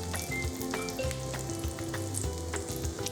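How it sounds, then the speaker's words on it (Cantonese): Courgette cake slices coated in flour and egg with chilli rings pan-fry in oil, giving a steady close sizzle and crackle with small pops and faint stirring throughout. "煎大概3分鐘至到底部金黃色"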